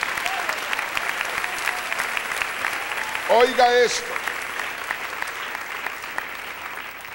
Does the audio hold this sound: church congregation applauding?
yes